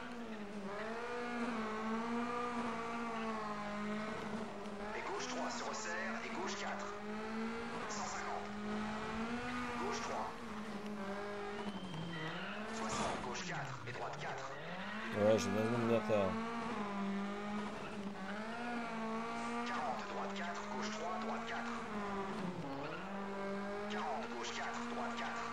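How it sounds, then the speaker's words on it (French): Tires squeal as a rally car slides through a near-uncontrolled drift in Colin McRae Dirt, a sustained whine over steady engine drone with a brief louder burst midway; no one talks. "On entend les pneus qui crissent."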